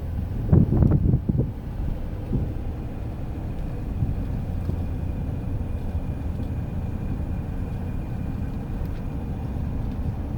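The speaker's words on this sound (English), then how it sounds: "There's a warm wind blowing, so I hope it's not messing up the volume too bad." Warm wind buffets a microphone outdoors at Little Bighorn Battlefield, a steady low rumble with a few stronger gusts near the start, continuous and fairly loud, with no speech.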